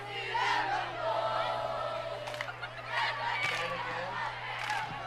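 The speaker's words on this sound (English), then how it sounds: "Deer Park's there doing they're still clapping and being very happy up there in the stands." Football fans in the stands at a Friday night game between Deer Park and Reading make a broad, distant roar of crowd noise and cheering with scattered whoops, over a steady low hum.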